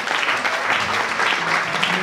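A church congregation applauds during a Sunday service, a loud, dense and even burst of clapping that fills the whole short stretch without any talking.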